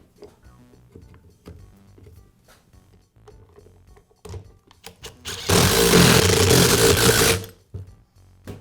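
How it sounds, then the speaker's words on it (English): Parts of a Milwaukee impact wrench housing are refitted with small clicks and plastic knocks, then a loud burst of whirring motor runs for about two seconds before a few more light taps, close up with no talking. "And now I'll reinstall the housing."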